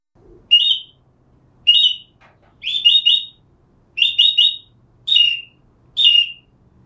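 A bird-shaped whistle is blown in six short bursts, some single and some quick double or triple trills, bright and close with pauses between.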